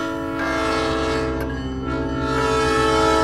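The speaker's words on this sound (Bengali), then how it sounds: "আপনার মেবি ট্রেন চলে আসছে" An arriving train sounds a long, loud, steady horn blast that dominates throughout, over the rumble of the approaching rail cars.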